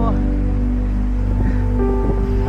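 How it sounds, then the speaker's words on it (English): Fairly big ocean waves at Patar Beach in Bolinao make a loud, continuous roar of surf, with a steady tonal hum running underneath throughout. "Waves are somewhat big."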